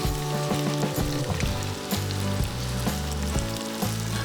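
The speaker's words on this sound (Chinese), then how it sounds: "好，鱼肉下锅炸" Pieces of sharp-nosed fish deep-fry in vegetable oil heated to about 170 degrees, giving a steady, close crackling sizzle that runs the whole time beneath background music.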